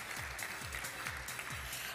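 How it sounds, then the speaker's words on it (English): Moderate audience applause at a roadshow event, steady clapping under a pulsing low beat of background music. "Let's give Mark a round of applause."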